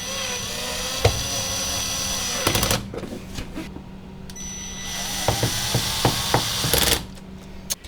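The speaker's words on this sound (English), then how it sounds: "the only thing left is to put the screws back in." Screws driven back into a refrigerator panel, with a power driver whirring in two bursts, plus scattered sharp clicks and taps of metal parts, close by.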